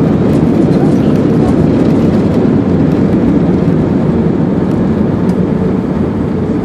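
An airliner touches down at London Heathrow Airport, heard as a loud, steady broadband roar of engines and rushing air that fills the whole stretch without letting up.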